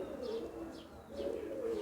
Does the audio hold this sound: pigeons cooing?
yes